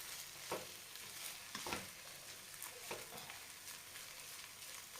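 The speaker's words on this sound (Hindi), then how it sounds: "ये देखें पहले इनको अच्छी तरह मसाले में मिक्स कर लेंगे जो नीचे वाले हैं" Chicken is stirred into spice masala in a pot for restaurant-style biryani, a faint steady sizzle with a few soft scraping stirs at irregular intervals and no voices.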